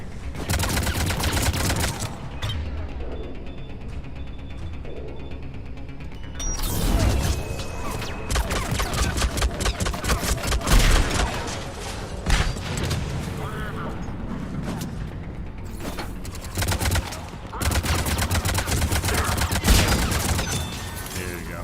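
Enemy turret fire in Mass Effect 3 Legendary Edition: sustained rapid automatic gunfire with dense cracks and mechanical clatter that continues almost without pause, swelling in heavier bursts, with combat noise layered over it.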